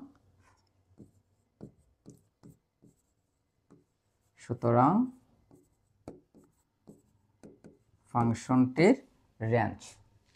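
Chalk or marker taps and scratches on a board during a calculus lesson on graphs and functions, short scattered strokes between stretches of a teacher's speech.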